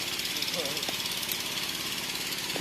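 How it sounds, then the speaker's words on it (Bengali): Motor-driven sewing machines stitch geo bags in a workshop, a rhythmic mechanical chatter and drone running continuously, with someone talking over it. "জিও ব্যাগ সেলাই করা মেশিন এটা দেখেন এখন সেলাই করে যাচ্ছে সবাই"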